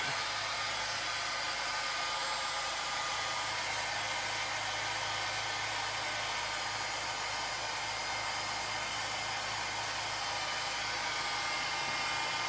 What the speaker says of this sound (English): I'm still embossing it, folks.